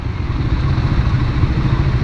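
Motorcycles and cars idle and creep in a traffic jam in Solo, heard from a motorcycle as a loud, steady rumble of engines close by.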